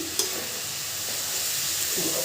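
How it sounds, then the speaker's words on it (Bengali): Rice frying in a pan with ginger, garlic and salt for plain pulao, a steady close sizzle and hiss with light stirring scrapes throughout, no talking. "দিয়ে চালটাকে সুন্দর করে ভেজে নেবেন।"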